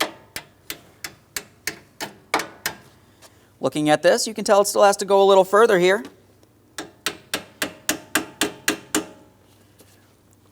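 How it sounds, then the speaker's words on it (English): Sharp, bright taps from a small hammer seating radiator clips on a 2004-2008 Pontiac Grand Prix 3.8L V6, in a quick, even run of about a dozen, then someone talks briefly before another steady run of taps. "I'm just going to use a small hammer for this."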